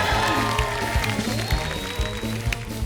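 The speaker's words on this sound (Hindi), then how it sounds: "जोरदार तालियां।" A studio audience at a comedy show applauds, the broadband clapping sitting under music or a rhythmic backing beat with some crowd noise throughout.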